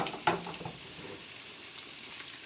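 Potatoes and bouillon being stirred together in a soup pot, giving a soft scrape and a brief clatter near the start, then a steady low sizzle without talk.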